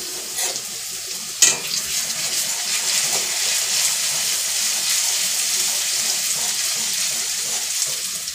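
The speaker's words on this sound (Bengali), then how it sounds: "এখানে আমি আলুগুলো গরম তেলের মধ্যে দিয়ে দিলাম" Shredded potatoes fry in hot oil over a high flame, a loud, continuous hissing sizzle with an early sharp clatter as they hit the pan, then occasional stirring scrapes, no talking.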